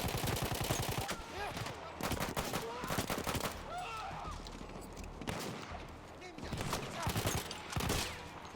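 Rapid bursts of gunfire from a weapon in the Battlefield 1 video game, with repeated volleys and loud cracks coming in clusters over a steady battle din, pausing briefly between strings of shots.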